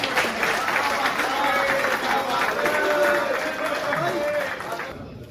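Applause and crowd chatter fill a hall at a poetry gathering (mushaira), a steady dense wash of clapping with murmuring voices that tapers off near the end.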